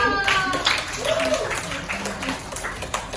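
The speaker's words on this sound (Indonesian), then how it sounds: "beri aplaus dong" Audience applause and clapping follow a call for a hand after a classroom presentation on Lampung's gulai tabor, a light patter of claps mixed with chatter and voices throughout.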